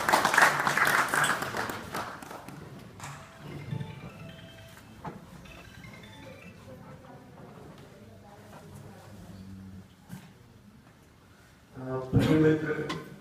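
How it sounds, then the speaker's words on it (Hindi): Audience applause at an academy event on Lok Sabha election predictions, loud clapping at the start that fades into quieter room noise, then swells again briefly near the end. "हम लोगों के बीच अजय भाभी जी के लिए जोरदार तालियां"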